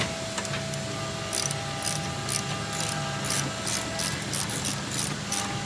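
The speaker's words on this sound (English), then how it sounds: "we're doing it with ratchets" A hand ratchet loosening the 3/4 bolts on a motorcycle's rear shocks during an air ride suspension install: repeated short clicking bursts at a steady pace, close, over a constant background hum.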